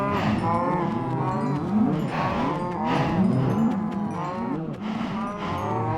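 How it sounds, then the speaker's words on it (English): Several cows in Minecraft moo over and over in a loud, overlapping chorus that keeps going the whole time, with no talking. "Let's take care of some cows."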